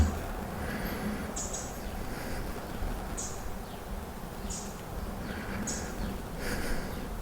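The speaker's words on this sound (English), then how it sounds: "But I can hear some birds now." Outdoors on a chilly morning, birds chirp in short, high, repeated calls at a moderate distance over a steady bed of low ambient rumble, with no talk.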